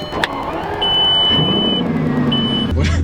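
Inside a Bugatti Veyron, electronic chimes beep through a low cabin hum, then the engine catches and fires up near the end with a sudden low surge.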